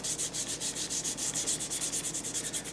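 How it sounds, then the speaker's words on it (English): A wooden school desk being sanded by hand, with steady rhythmic back-and-forth strokes rasping close up, about eight strokes per second, and no talking. "I sanded around the logo that was burnt into the back."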